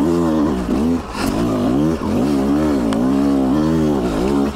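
A 2020 Beta 200RR dirt bike ridden in second gear on a trail with switchbacks, its two-stroke engine buzzing loud and close with steady rising and falling revs as the throttle is worked.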